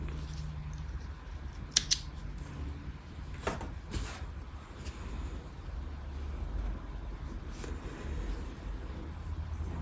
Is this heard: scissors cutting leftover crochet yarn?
yes